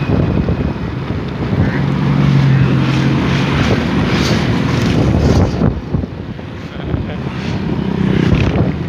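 A motorbike carrying a Betawi ondel-ondel giant puppet rides past outdoors, its engine a loud, continuous low rumble swelling and easing, with strong wind buffeting the microphone throughout.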